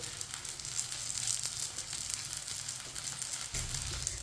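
A paratha fries on a hot pan, a continuous close sizzle with faint crackles and an occasional scrape as it is turned, nobody speaking.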